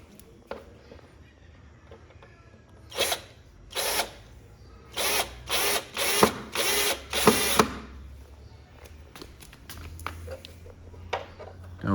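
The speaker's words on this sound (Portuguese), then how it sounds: "Os parafusos, é só parafusar." Screws driven with a power drill while assembling a Philco Roku 42-inch TV wall panel with two niches: a series of loud, close whirring bursts of about a second each, with short pauses and faint handling noise between.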